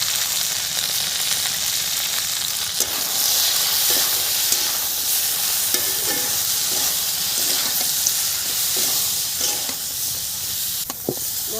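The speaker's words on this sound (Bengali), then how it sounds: "মশলা ভাজা হয়ে গেছে" Ground spice paste of chilli powder, turmeric and salt sizzling and frying steadily in a pan, a continuous hiss with occasional stirring scrapes and soft clicks, no talking.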